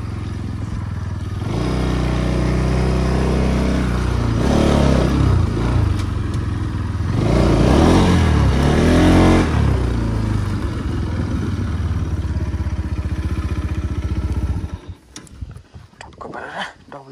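A Pulsar NS200 motorcycle engine running close by, a loud steady idle thrum that rises in two revving swells before settling, then cutting out abruptly near the end.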